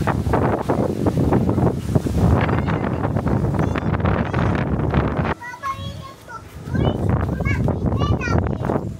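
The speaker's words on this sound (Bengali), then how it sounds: "বাতাস শুরু হয়ে গেছে।" Wind gusts and rumbles outdoors against the microphone as dark rain clouds gather, loud and continuous under people talking, easing briefly near the end before rising again.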